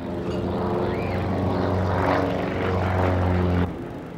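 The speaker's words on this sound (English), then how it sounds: "They are treated to a marvellous display of low-level flying by many of the original planes from the Second World War" Original Second World War propeller warplanes, among them a Lancaster bomber flanked by a Hurricane and a Spitfire, fly low over a 1994 Jersey air display. A loud, sustained propeller-engine roar swells and passes overhead, then cuts off abruptly.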